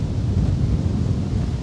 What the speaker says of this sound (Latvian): Tagad bišķi pūš vējš